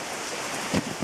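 Heavy rain falls in Japan, a steady broadband wash of downpour throughout with a couple of brief low thumps near the end, no voices.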